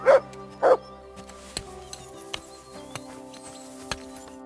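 A dog barks twice in quick succession near the start within the video game Kingdom Come: Deliverance 2, followed by quieter scattered game sounds and clicks.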